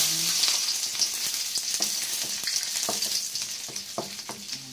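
Garlic dropped into hot oil for a pumpkin and miswa sauté, crackling and sizzling up close, with a run of utensil taps and scrapes against the pan as it fries.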